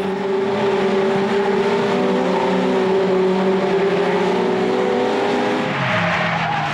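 Mitjet race cars lapping the Charade circuit during a 2011 race meeting, a continuous loud engine drone with steady pitch and rising tire squeal toward the end, fairly close and without speech.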